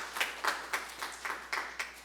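Scattered claps from a small audience at a Korean church prayer gathering, about eight distinct sharp hits spaced roughly a quarter second apart, fairly faint and sparse rather than a full ovation.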